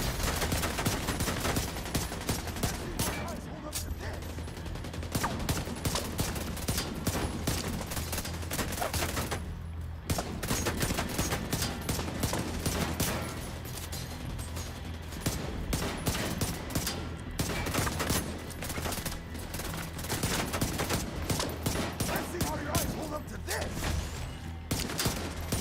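Dense, continuous gunfire in Tom Clancy's The Division 2 during a boss fight, rapid automatic bursts layered over one another with a constant rumbling game backdrop for the whole stretch.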